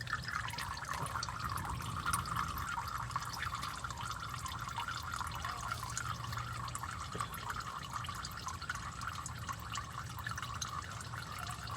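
Engine oil drains from a car on a hill into a tilted, hand-held oil pan, giving a steady, continuous liquid trickle and patter that runs without pause, close by, with no talking.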